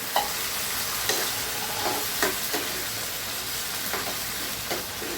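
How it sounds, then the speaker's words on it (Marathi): Ginger garlic paste frying in a pan: a dense, continuous sizzle and hiss close by, with light periodic stirring scrapes and small crackles, no speech. "त्यात आलं लसूण पेस्ट टाकूया."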